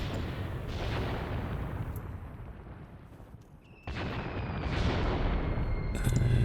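Artillery shelling in the Graviteam Tactics game booms in heavy, rumbling blasts, one dying away before another loud impact hits, followed by continued low, roaring reverberation.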